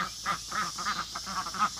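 A group of farm ducks near their bedding area at nightfall quack close by in a steady, overlapping series of loud, nasal calls, with no talking.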